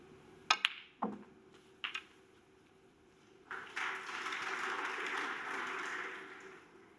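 Artificial crowd applause plays at a snooker match, the 2020 final between O'Sullivan and Selby: a faint, steady patter that swells in after a few sharp glassy clinks and runs on before tapering off.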